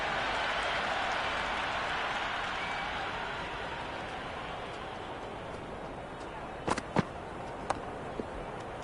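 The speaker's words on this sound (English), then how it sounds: "The crowd is electric right now." Stadium crowd noise in the Cricket 26 video game, a broad steady roar filling the whole clip with a few sharp clicks near the end and no talking over it.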